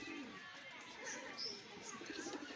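A male high flyer pigeon at a loft coos faintly, soft low calls sitting under nearby talk.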